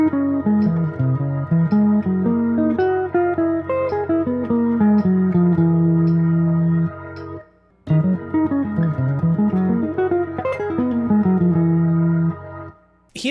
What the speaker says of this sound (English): Or we could make a line where we connect these arpeggios together, which would sound something like this.